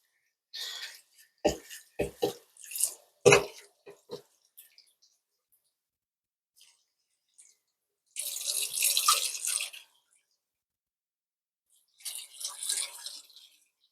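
Tap water rinsing a Dyson V8 vacuum roller in a sink, a few short splashing bursts and drips early on, then two longer gushing rinses separated by quiet pauses, close and moderately faint.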